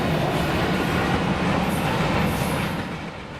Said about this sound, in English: BMP 2001's K5LA can be heard blowing through town.